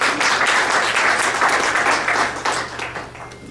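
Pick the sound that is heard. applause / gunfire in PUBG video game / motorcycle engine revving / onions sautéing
applause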